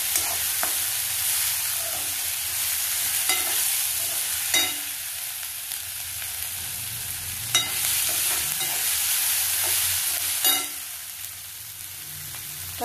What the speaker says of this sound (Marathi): कांदा थोडा लालसर होईपर्यंत परतून घेते।